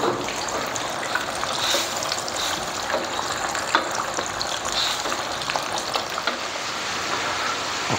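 Tamarind water boils in a pot for a fish head turmeric dish, a steady close bubbling and hissing rumble, with no talk.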